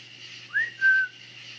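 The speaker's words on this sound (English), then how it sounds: "Did you guys hear the whistle?" Two short whistled notes, the first rising and the second held, sound faintly over a quiet hum.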